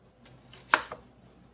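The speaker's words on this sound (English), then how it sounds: "I'm going to begin with the onions. Just going to be dicing these up." A knife dices big onions on a cutting board for enchiladas, giving one sharp, close chop followed by a lighter knock against a quiet room.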